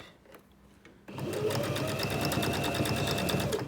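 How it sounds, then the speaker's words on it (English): A sewing machine stitches through pinned layers of fabric for a tablet cover: quiet handling, then a sudden loud, fast, even mechanical rattle of the needle that runs steadily to the end. "Sew to my corner, needle in, pivot round."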